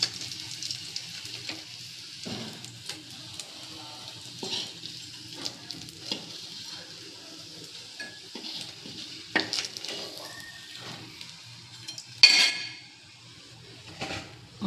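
Pieces of pond fish fry dry in mustard oil in a pan: a soft, low sizzle beneath sparse clinks and scrapes of a metal utensil, with one sharper ringing clink near the end.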